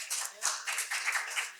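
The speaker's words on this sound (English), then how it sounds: "Okay, Carl, that's 4 hand claps now." A scattering of hand claps in a city commission meeting room, a short burst of several people clapping together at moderate distance, fairly faint and irregular.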